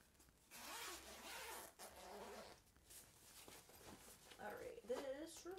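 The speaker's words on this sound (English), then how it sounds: "Lots of zippers." Zippers on a cross-stitch project bag are pulled open and shut in a few quick, raspy strokes close by, with brief pauses between them. The zipping is quiet, and a voice speaks softly near the end.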